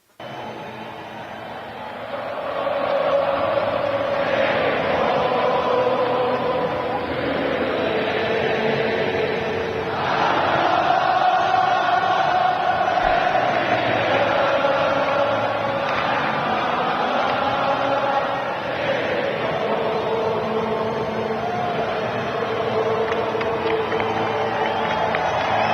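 A Seattle stadium crowd sings a song after a US soccer win over Australia, a broad, massed chorus of voices sustained loudly and steadily throughout.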